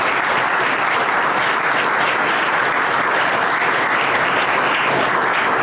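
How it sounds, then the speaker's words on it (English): A room of attendees at a League of Women Voters forum gives a continuous, even round of applause, dense close clapping holding steady throughout with no talk over it. "So I want to have everyone give you a round of applause."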